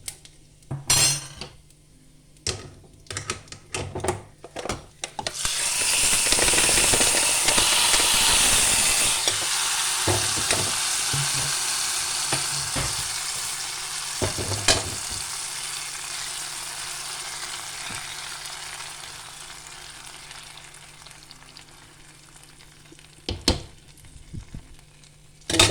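Hot tempering oil with curry leaves is poured into erissery curry and bursts into a loud sizzle that slowly fades over many seconds. Scattered clinks of utensils come before and after it.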